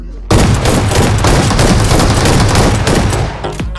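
Loud, dense gunfire from BGMI, a mobile battle royale game, with shotgun blasts packed into a continuous rattling barrage that starts abruptly and runs nearly the whole time, close and harsh.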